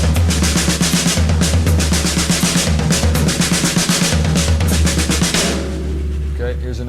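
Triplet crossover drum patterns played at a steady, busy pace on a full kit, with dense rapid strokes and cymbal wash throughout, loud and close, easing off near the end.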